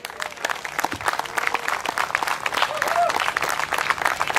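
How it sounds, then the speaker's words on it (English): Audience at a cricket league opening ceremony clapping, a dense, sustained round of applause from a crowd, building slightly toward the end. "Big round of applause to the players."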